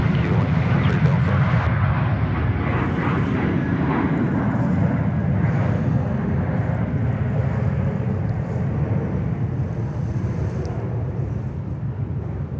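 An airliner departs Sydney Airport, a steady, loud, rumbling jet roar that stays continuous throughout, heavily mixed with gusting wind buffeting the microphone.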